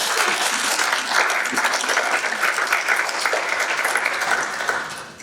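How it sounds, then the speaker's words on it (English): Audience applauding a discussion panel, a loud, full, even round of clapping sustained for several seconds before tapering at the end. "So can I have a round of applause for our panel?"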